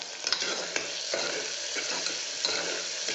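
Beans and onions frying in a pan, a continuous close sizzle broken by scraping stirs and soft clicks, with no talking over it.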